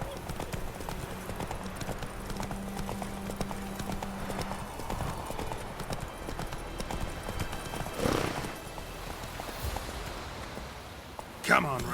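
Roach the horse trots in The Witcher 3, its hooves clip-clopping in a steady rhythm at moderate volume. There is a brief whinny-like burst around the middle and a sharp sound near the end.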